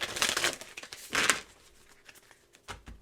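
Tarot cards shuffled and drawn from a deck during a reading, giving soft papery riffles and crinkly slides in two short bursts, then quieter handling and a brief thump near the end.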